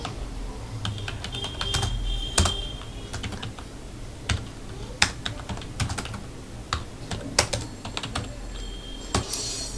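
Computer keyboard typing while entering text in MS Word, a close run of sharp plastic key clicks in uneven bursts with a few heavier spacebar or enter strikes, no talking.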